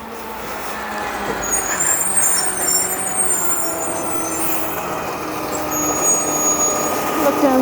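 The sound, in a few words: garbage truck with air brakes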